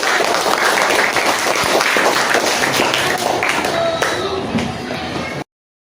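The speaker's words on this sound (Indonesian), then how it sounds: "Tepuk tangan untuk kelompok 1." A classroom of students applauds loudly and continuously for several seconds for a presenting group before the sound cuts off abruptly.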